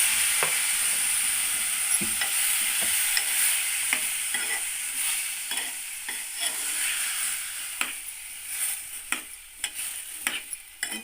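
Tomatoes cooking in a pot for tomato chutney, giving a steady sizzle and bubbling with repeated scraping and stirring clicks, close and moderately loud, with no talking.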